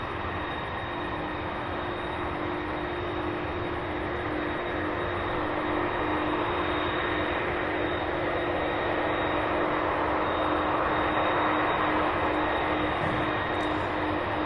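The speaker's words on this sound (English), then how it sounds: "This will be our next taxi here, the MD-11." A UPS McDonnell Douglas MD-11 cargo jet taxis at Louisville's SDF airport, its engines producing a steady, continuous broadband roar with a faint high whine, holding an even level throughout with no voices.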